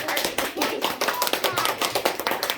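Students and staff clap for a school virtue award student, a short run of distinct, fairly close claps at a brisk, slightly uneven rhythm.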